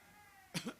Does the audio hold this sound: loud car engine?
no